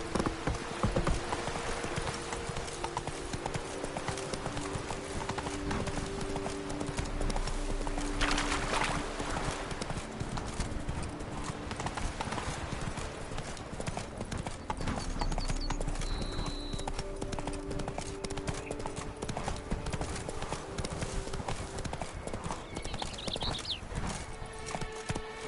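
Roach, the horse in The Witcher 3, gallops with a fast, steady clip-clop of hooves that runs unbroken from start to finish over a soft musical backdrop, with no voices.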